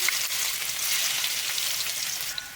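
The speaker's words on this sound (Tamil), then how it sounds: "எண்ணெய் பார்த்தீங்கன்னா நல்லா சூடாயிருச்சு இப்போ வந்து நம்ம இடித்து வச்சுருக்கிற பூண்டு வந்து நம்ம சேர்த்துக்கலாம்" Bright, steady sizzling of crushed garlic frying in hot oil, a continuous crackle with faint pops, close by and without talk.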